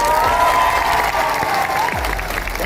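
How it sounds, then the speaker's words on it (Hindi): An audience at a community gathering bursts into loud, continuous applause with some cheering, the clapping steady and close throughout. "हंसो के लिए भी ताली मारो"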